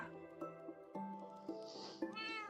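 A pet cat meows, with several short, close, tonal cries in quick succession, fairly quiet and without talk over them.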